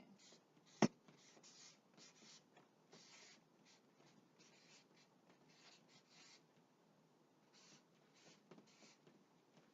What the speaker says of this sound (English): So at the top, I'm going to write the vision.